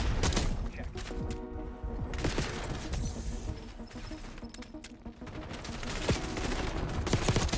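SMG fire in the video game Black Ops 6 crackles in rapid, dense bursts, loud and close, with gunshots layered throughout.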